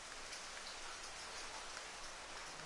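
Steady rain falls in a dense, even hiss across the whole stretch, loud and continuous with no voices over it.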